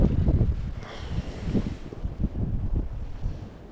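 Gusty wind of about 50 mph buffets the microphone in rough, uneven bursts at a stillwater trout fishery, with faint water sounds underneath.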